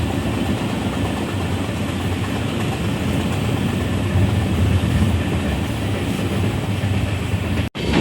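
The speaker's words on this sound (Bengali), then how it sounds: "101 কিলোমিটার/আওয়ার স্পিডের গতিতে ট্রেন চলছে কামরূপ এক্সপ্রেস" The Kamrup Express runs at about 101 km/h, a loud, continuous close-up roar of wheels and carriages with a steady rhythmic clatter and no talk.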